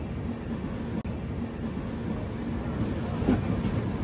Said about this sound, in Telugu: అటు సైడ్ నుంచి ఒక ట్రైన్ వస్తుంది.